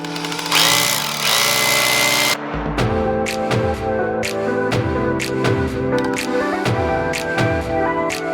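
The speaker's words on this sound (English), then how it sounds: "I need to drill at least 6 inches deep for the anchors to hold the lift down." A hammer drill bores anchor holes into a concrete garage floor for an Atlas Apex 9BP two-post lift, a dense whir at first, then a string of sharp rhythmic percussive impacts, loud and close.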